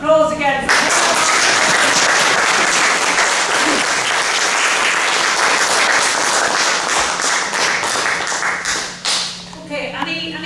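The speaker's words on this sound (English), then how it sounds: "So a round of applause again for" Loud, sustained applause from an indoor audience at an award ceremony, dense clapping for about eight seconds before tapering off into brief talk.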